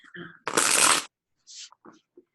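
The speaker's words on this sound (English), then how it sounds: "I'm going to just shuffle these 3 times." A quick burst of animal spirit card shuffling rattles close up, followed by a few soft taps and rustles as the deck settles.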